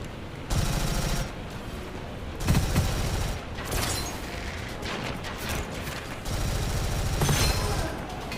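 Rapid submachine gun fire in the shooter game Gunfire Reborn, loud sustained bursts broken by brief gaps, with dense crackling shots and low booms filling the whole stretch.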